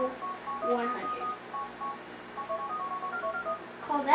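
Series of short telephone keypad dialing tones entering a cheat number on an in-game phone in GTA 4, clipped beeps in quick irregular bursts with small pauses between groups.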